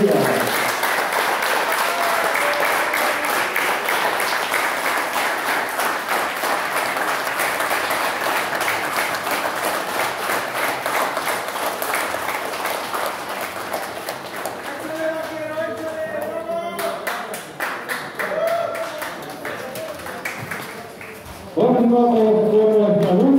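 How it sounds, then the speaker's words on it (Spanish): A large wrestling-event crowd applauds steadily in a minute of applause, the dense clapping filling the space; a voice speaks over it toward the end. "Agradecemos a toda la afición, a nuestros compañeros, por este motivante aplauso"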